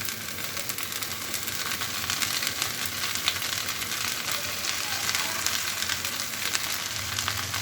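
Okra frying in a pan with onion, garlic and green chili, a loud, continuous hissing sizzle held close and steady throughout with no voices.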